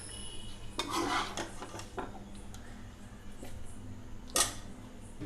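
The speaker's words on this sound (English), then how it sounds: "Now I have transferred the entire onion tomato mixture into the mixer grinder." A cooled onion and tomato mixture is scraped from a pan into a mixer grinder jar with a spoon, giving a few close metallic clinks and scrapes and one sharp knock near the end over a low background hum.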